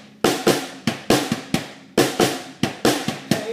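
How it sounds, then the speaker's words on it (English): Drum kit groove on bass drum, snare and hi-hat playing a simple 1-2-1 beat, with sharp, close, loud hits in a steady repeating rhythm and no voices. "we're going to do some rhythms that involve us sort of playing a 1-2-1 beat"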